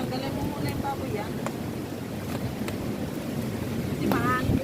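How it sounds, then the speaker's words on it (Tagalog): Steady wind buffets the microphone in a constant rough rush on Cheung Sha Beach, Hong Kong, during a barbecue, with faint voices and brief chirpy sounds scattered underneath. "Kasi mahangin pa"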